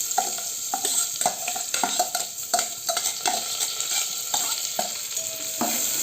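Red rice being stirred as it fries in hot ghee in a thick-bottomed pot: a steady sizzle with repeated scraping, clinking stir strokes at an irregular rhythm, close and fairly loud, with no voices.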